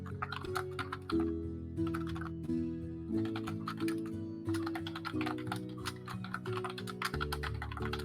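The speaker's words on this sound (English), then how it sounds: "I love just hearing his silence and typing." Computer keyboard typing with rapid clicky keystrokes in short bursts and brief pauses, fairly faint, sitting under a steady background of layered tonal music.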